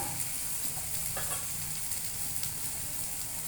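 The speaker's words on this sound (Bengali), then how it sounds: "এবার ভালো করে মশলা কষানো হয়ে গেছে" Spices fry with potato, pointed gourd and papaya in a pan, giving a continuous close sizzling hiss with faint stirring, short and steady.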